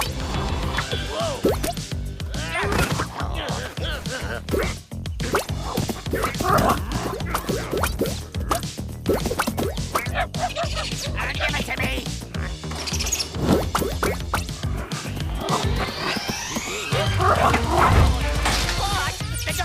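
Cartoon robot dog Robo-Mutt barking amid a busy animated action scene, short sharp barks mixed with music, crashes and effects, with a loud hit near the end.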